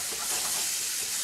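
Chunjang, oyster sauce, sugar and a little water stir-fry in a pan with a brief, steady, close sizzling hiss.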